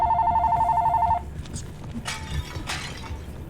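An electronic telephone ring trills loudly in quick repeated pulses for about a second, then stops. Soft thumps and a couple of sharp clattering, glassy crashes follow in the room.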